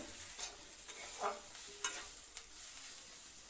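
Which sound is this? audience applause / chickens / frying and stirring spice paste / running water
frying and stirring spice paste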